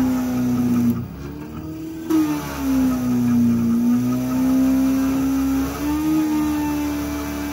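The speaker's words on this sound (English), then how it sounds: "I'm going to be very naughty now, dead short the system" An LG washing machine motor, run as a generator, whines steadily under a 23 amp dead short, its strained tone dipping and rising in pitch as the load shifts, loud and continuous with a brief drop partway through.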